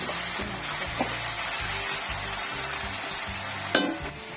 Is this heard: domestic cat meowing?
no